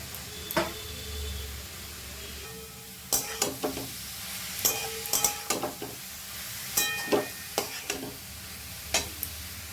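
Grated carrots stirred and fried in ghee for carrot halwa: a soft steady sizzle with repeated scraping, clinking stirs in irregular bursts, close and moderately loud, with no talking.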